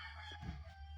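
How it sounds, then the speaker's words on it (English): Chickens cluck and a rooster calls outside the front of a house in the Philippines, a fairly soft, steady bird sound over a constant low hum. "I was looking at the chickens out the front."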